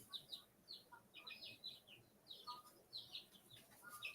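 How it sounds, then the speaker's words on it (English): Pet chickadees chirping and tweeting indoors, a steady stream of soft, high, quick calls at a distance, quiet throughout. "My little chickadees back there making little noises."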